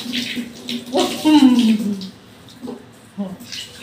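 Running water splashes over a pet dog's feet as they are washed, with someone talking and laughing over the steady flow close by.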